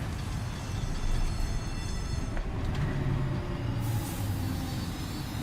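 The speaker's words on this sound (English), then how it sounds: "Most comfortable monorail experience, by the way." Monorail ride in the video game Death Stranding 2, a smooth, steady rolling rumble with a low hum and faint brake-like hiss, continuous and moderately loud with no talking.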